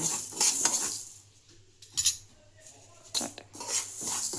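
Three to four spoons of mustard seeds roast over a low flame in a pan for mango pickle. Soft sizzling and crackling run under bursts of spoon scraping and stirring against the pan.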